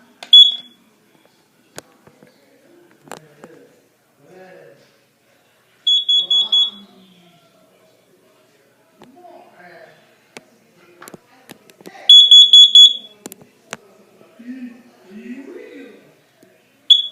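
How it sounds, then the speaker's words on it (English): A carbon monoxide alarm being tested gives short bursts of loud, high, rapid beeps, one cluster early and a longer one later, with someone talking quietly in between. "And there's the carbon monoxide alarm."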